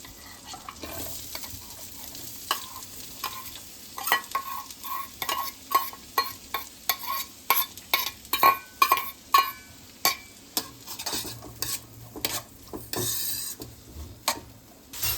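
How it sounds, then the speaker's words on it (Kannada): Onions frying in about three spoons of oil for pav bhaji, stirred steadily with a spoon scraping the pan in regular strokes over a soft, continuous sizzle, close and with no voices. "ಚೆನ್ನಾಗಿ ಫ್ರೈ ಮಾಡ್ಕೊಬೇಕು."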